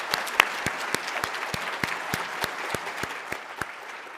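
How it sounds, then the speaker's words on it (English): Audience applause at a regional conference session, a steady wash of clapping from a sizable crowd with a few sharper individual claps standing out, sustained evenly throughout without fading. "Let's give them all a round of applause"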